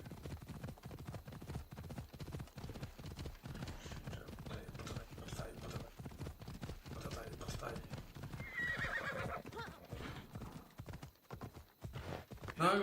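Rhythmic clip-clop of a trotting horse's hooves in Assassin's Creed Odyssey runs throughout, with the horse whinnying partway, while someone talks in Polish over the sounds.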